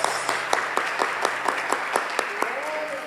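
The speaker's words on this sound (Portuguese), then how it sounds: "vamos aplaudir o Senhor porque ele merece" A church congregation claps during a worship service, giving rhythmic, roughly even claps in unison over a reverberant hall, with a voice speaking faintly beneath them.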